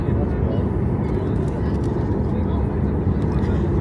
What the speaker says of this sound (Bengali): বিমানটি তার নির্ধারিত স্পিডে চলে এসেছে